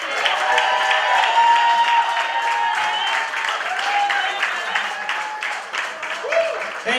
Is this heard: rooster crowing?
no